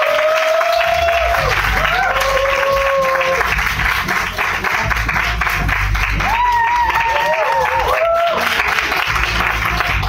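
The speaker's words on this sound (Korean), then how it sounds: "무슨 일이든 항상 꾸준히 열정적으로 하는 우리 서현 리더님을 큰 박수로 모셔보도록 하겠습니다." An audience at a talk show event claps to welcome a speaker onstage, steady loud applause mixed with crowd noise, cheering and whistle-like tones throughout.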